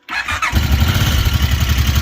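An ATV engine cranks over and catches after a coolant change, quickly settling into a loud, close, steady chugging idle that continues alone.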